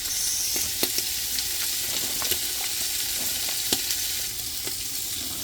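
Pork liver and sisig mix frying in a pan, a steady close sizzle with occasional spoon scrapes and stirring clacks, no talking.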